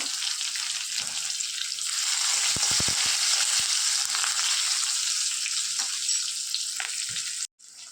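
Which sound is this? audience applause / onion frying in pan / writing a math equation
onion frying in pan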